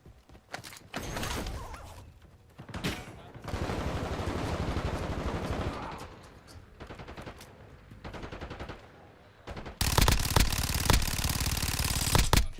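Bursts of automatic gunfire in Call of Duty Warzone, with rapid rattling volleys alternating with brief pauses and a loud, dense final stretch of sustained shooting.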